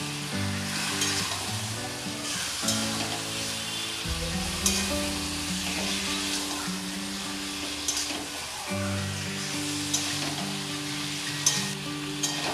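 Marinated chicken fries with onions in a hot pan, giving a continuous loud sizzle broken by repeated scraping and stirring strokes throughout.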